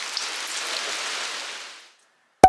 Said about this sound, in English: Yo, this rain is coming down hard.